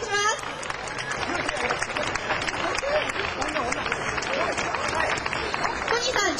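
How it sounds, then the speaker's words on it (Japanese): An audience applauds at a live stage event as a man is called up, with dense clapping and crowd noise under voices speaking over it throughout. "はい、皆さん拍手お願いします。"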